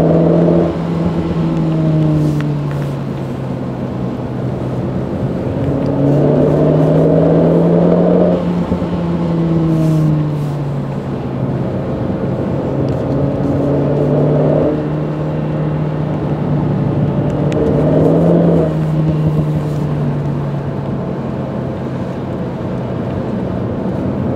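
A Renault Clio 4 RS turbo accelerates repeatedly, its engine rising in pitch through the gears with a loud, close roar that surges and drops in waves, and no voices.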